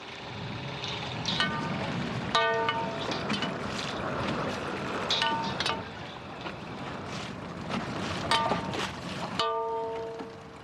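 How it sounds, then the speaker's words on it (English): Metal pipes are clanged from boats off Alaska to herd whales, producing repeated ringing metallic strikes with tonal overtones over constant wind and water noise outdoors, and no talking. "As soon as we started clanging those pipes"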